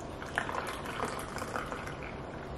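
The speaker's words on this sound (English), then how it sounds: "And just pour her in." Chai tea poured into a cup at home, a soft close trickling and splashing of liquid with small gurgles and drips over a faint steady background hiss.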